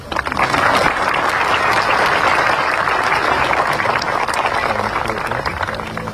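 An audience at a university convocation ceremony applauds in a continuous, dense wash of clapping that holds steady and loud for the full duration.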